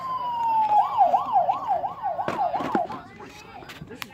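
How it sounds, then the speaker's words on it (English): A toy police car siren wails up and down in quick regular cycles, close and fairly loud, with clicks and handling noises around it. "This is pretty cool, nice police car."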